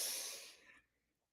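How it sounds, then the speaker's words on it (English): A person takes a single deep breath in during a stretching and breathing exercise, a soft airy rush close to the microphone that fades out after under a second. "another deep breath in"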